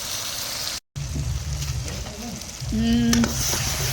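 Greens and chillies sauteing in a pan give a steady close sizzle that briefly cuts out, then swells louder as more goes in, with some stirring and faint voices.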